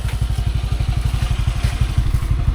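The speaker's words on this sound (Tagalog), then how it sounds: "nagpapainit muna tayo ng motor" A motorcycle engine warming up at idle, a steady rapid low thumping pulse, close and loud, continuing evenly with no talk.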